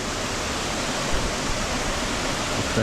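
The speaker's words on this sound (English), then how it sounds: "waterfalls coming down there" Junction Creek Falls in Kananaskis pours down over wet rock, a loud, steady, broadband rush of falling water that fills the whole moment without pause or voices.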